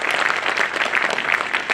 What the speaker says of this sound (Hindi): बार जोरदार तालियां इनके लिए